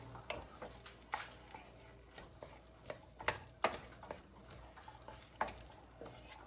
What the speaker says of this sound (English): Now you want to let this cook for a few minutes here.